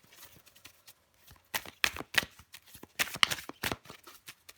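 Tarot cards are shuffled and drawn in quick bursts of crisp riffling and snapping. Several clusters of sharp flicks are separated by short pauses, close and fairly quiet, with no voice over them.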